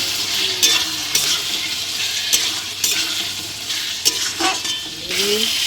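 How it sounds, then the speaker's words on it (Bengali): Potato, mango and spices sizzle in a frying pan while a spatula stirs them, with a steady frying hiss broken by rhythmic scrapes and light clinks of metal on the pan. "তা আমটা আমি ঘষে দিয়ে দিলাম, ভালো করে নাড়িয়ে নেব"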